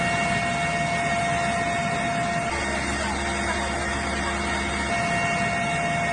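Helicopter in footage of Shoigu inspecting troops, a loud, continuous droning engine whine with steady tonal hum and no gaps.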